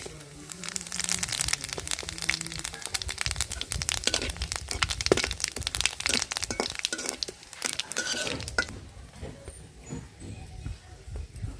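Cardamom, cinnamon, cumin and fennel crackle in hot oil for a fish-head moong dal muri ghonto, dense sharp popping and spitting close up that thins out toward the end.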